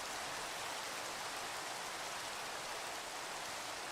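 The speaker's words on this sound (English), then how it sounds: "Oh god, yeah, it started raining in Minecraft." Steady rain from the Minecraft video game, a dense even hiss of falling water running continuously at moderate level with no talk over it.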